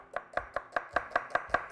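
Knife chopping onions into strips on a cutting board, eight crisp, evenly spaced close-up chops in a steady quick rhythm with no talking.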